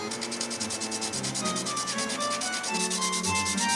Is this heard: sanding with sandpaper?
yes